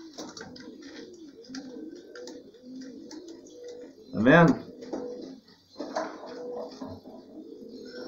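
Pigeons cooing in a loft of young birds, soft low coos scattered throughout, with one louder close call in the middle and someone talking over them.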